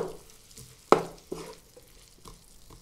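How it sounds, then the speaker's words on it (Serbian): Peppers and onions stirred in a frying pan with salt, pepper and balsamic vinegar, a soft sizzle under a few sharp scrapes and knocks of the utensil, one loud clack near the start, close and fairly quiet. "Promešat ću i pržit ćemo još jedno 3 minuta."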